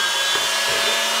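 Rotary tool cutting through 3D printed plastic, a steady high-pitched whine that runs continuously and loud throughout with slight grinding variations, no talking.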